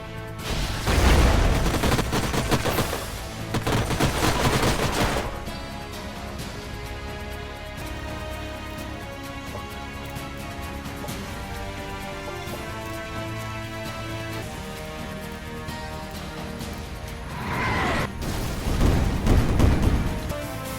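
Gunfire and booming shots from Vanguard units in the strategy game Age of Wonders Planetfall erupt in loud bursts at the start and end, with softer musical game sound between.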